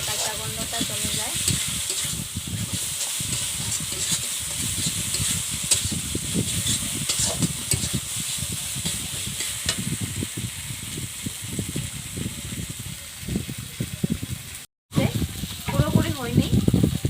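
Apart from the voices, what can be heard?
garlic, ginger paste and spices frying in a pan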